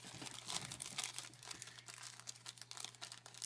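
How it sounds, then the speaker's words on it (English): Cellophane bags are handled up close, giving a faint, continuous crinkling and rustling with irregular crisp bursts against a low steady hum, no voices. "I'm going to grab some of those cute little cellophane bags that I have from the Dollar Tree."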